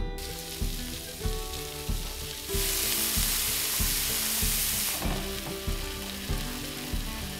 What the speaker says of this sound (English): The first thing we need to do is simply fry up a pound of sausage.